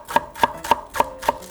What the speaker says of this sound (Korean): 집에 당근이나 파가 있으면 송송 썰어서 준비해주고